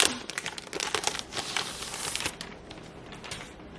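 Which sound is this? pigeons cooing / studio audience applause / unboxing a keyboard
unboxing a keyboard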